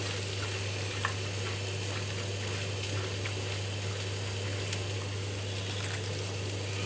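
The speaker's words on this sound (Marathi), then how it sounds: "त्यात टाकला लसूण, हिरवी मिरची आणि कांदा. छान परतून घेऊया भाजी." Vegetables with garlic, green chilli and onion fry in a pan, a steady sizzle at moderate level with a low constant hum beneath and no talking.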